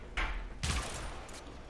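A Sybaris Prime rifle in the video game Warframe fires two sharp rounds in quick succession, each a punchy crack with a short tail, heard loud and alone.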